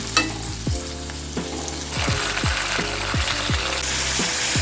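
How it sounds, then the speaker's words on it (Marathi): Half an onion fries in oil as tempering for homemade chicken biryani, a loud hissing sizzle that swells after the first couple of seconds, punctuated by repeated scraping stirs. "आता अर्धा उरलेल्या कांद्याची फोडणी देऊया"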